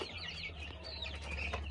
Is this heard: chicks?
yes